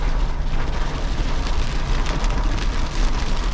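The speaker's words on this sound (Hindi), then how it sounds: "अगली बारिश पड़ रही है।" Heavy rain falling steadily in the jungle near Jim Corbett, a dense continuous hiss and patter with a low rumble underneath, loud and close.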